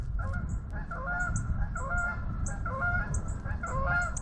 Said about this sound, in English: Here comes a goose at the same time.